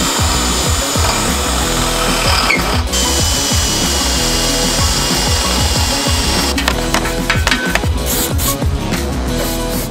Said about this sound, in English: we only want to drill through the front face of the crash beam.